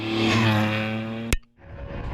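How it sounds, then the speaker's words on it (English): A BMW rally car races along a stage at the Killarney Rally of the Lakes, its engine loud and steady with a strong droning tone before a sharp crack and a brief drop, then continuing rougher and nearer. "Up to 4th with 3 to run, the BMW of Eugene Megan"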